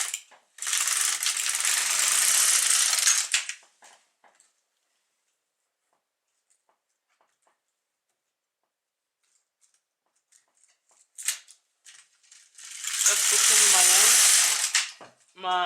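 An LK150 knitting machine knits rows of a skirt. The carriage makes two loud, rattling mechanical sweeps across the needle bed, one at the start and one near the end, with near silence between them.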